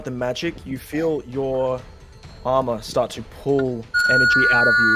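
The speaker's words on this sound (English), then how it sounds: "that's my doorbell" A home doorbell rings with bright sustained chime tones near the end, breaking in over someone speaking during a tabletop role-playing game session.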